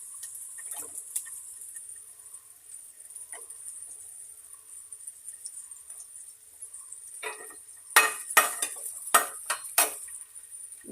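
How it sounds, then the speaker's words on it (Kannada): Green chillies tossed into a pan of frying peanuts and curry leaves for North Karnataka girmit give a faint hiss, then a burst of sharp spattering crackles and ladle scrapes toward the end; no one speaks. "ಇವಾಗ ಇದು ಮೆಣಸಿನ್ಕಾಯಿ ಹಾಕ್ತೀನಿ ನೋಡಿ."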